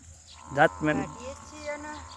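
Buffaloes on a farm give two or three short, close moos in quick succession, with a faint steady insect hum in the background.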